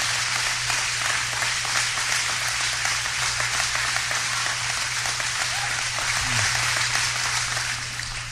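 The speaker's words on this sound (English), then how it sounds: "Man, they're still cheering." Sustained applause from a large audience, dense continuous clapping with a steady low hum underneath, lasting throughout without talk.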